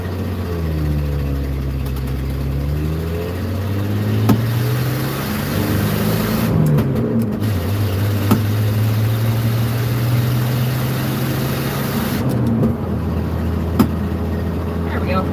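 A tow truck engine revving and straining as it accelerates, loud and continuous with rising and falling harmonic tones, mostly under light road rumble.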